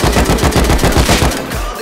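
A Thompson submachine gun fires in the survival game Rust, a loud, rapid rhythmic string of about ten close shots followed by a brief fading tail.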